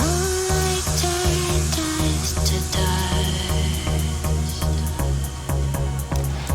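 Quiet opening verse of an 80s-style synthpop song with no drum beat, soft sustained synth chords and a simple bass pattern moving at a gentle, even level.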